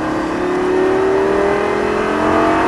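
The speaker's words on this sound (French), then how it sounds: "Et on reprend les gaz." A Lamborghini Gallardo LP 560 engine revs up steadily as the throttle is reapplied, loud and close, with a rising whine.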